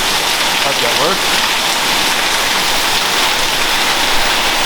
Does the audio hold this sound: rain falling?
yes